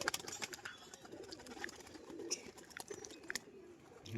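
A female pigeon gives faint, soft cooing among light clicks and rustles, heard close but quiet with no talk over it.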